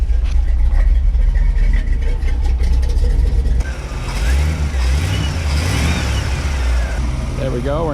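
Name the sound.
car engine running after air conditioning install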